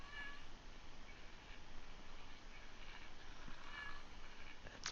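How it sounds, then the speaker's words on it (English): A cat in a video game meows softly a couple of times over a steady hiss of background noise. "So we have this pretty intense zoom in on the cat."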